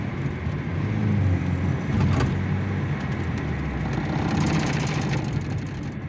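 A car shudders under braking with a faulty brake judder, heard as a continuous loud road and engine rumble with a wavering vibration running the whole time.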